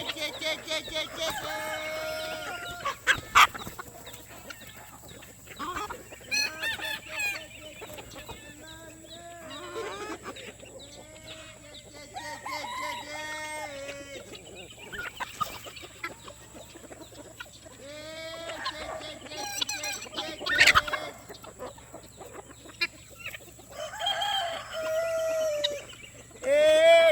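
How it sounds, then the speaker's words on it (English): Free-ranging homestead chickens and jungle fowl cluck and call repeatedly, with roosters crowing in drawn-out bursts, some near and loud, others farther off, with occasional talk in between. "Hey, chicken."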